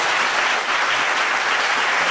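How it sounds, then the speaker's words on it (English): Audience at a Gettysburg history event applauding, a dense, sustained wash of clapping from many hands at full volume, with no voices standing out. "One more round of applause."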